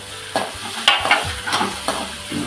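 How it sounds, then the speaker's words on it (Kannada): Food being stirred and fried in a pan for green chilli chicken, with recurring scrapes of a spoon over a steady low sizzle, close and moderately loud with no voices. "ಇದು ಸ್ವಲ್ಪ ಬ್ರೌನ್ ಕಲರ್ ಬರೋವರೆಗೂ ಹೀಗೆ ಸ್ವಲ್ಪ ಆಡ್ತಾ ಇರಬೇಕು"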